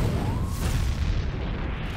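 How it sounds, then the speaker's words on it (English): A huge explosion in the video game Splatoon 3: a deep, sustained rumbling boom with a broad noisy blast that holds loud and steady for about two seconds, no talking over it. "that's the biggest explosion in Splatoon 3."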